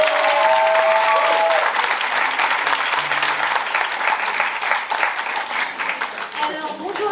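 An audience at a baptism gathering applauds loudly and steadily for the whole stretch, with a few voices mixed into the clapping.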